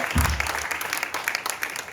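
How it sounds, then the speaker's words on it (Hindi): Audience applause at a Hindi kavi sammelan poetry recital, a steady wash of clapping from a seated crowd with a brief low thump near the start, moderately loud and continuous. "आपकी तालियां लगातार बजती जा रही चाहिए जब तक वो मंच पर आए।"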